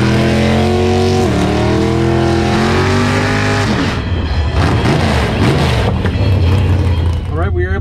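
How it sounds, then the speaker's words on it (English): Big-tire Ford Maverick purpose-built race car with slicks and a roll cage, engine revving loudly with rising pitch, then a harsh roaring launch and pass, close and powerful, with people talking around it. "Check out this big tire Maverick, another purpose-built race car."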